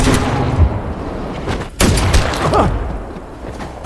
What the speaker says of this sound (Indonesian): Akhirnya Cookie ngasih tembakan terakhir sama ngeliat pemandangan